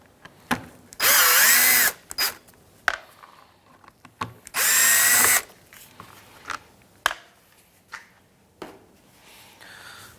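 A power drill backing out Phillips screws from the front bumper of a 2003–2011 Honda Element, two loud whirring bursts of about a second each, separated and followed by sharp clicks and handling taps.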